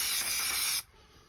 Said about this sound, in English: I'm going to add spray glue for speed on this one